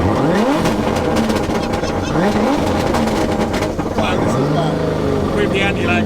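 A 1JZ-engined car with anti-lag accelerates hard through gear changes, the engine loud and continuous with repeated rising revving sweeps, sharp pops and crackles from the exhaust, and a brief tire squeal.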